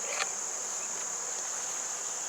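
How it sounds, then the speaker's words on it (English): Honey bees drone steadily around an opened hive during beetle-trap work, a constant close, high buzz filling the background with faint extra buzzes passing near. "chasing the bees out of the area."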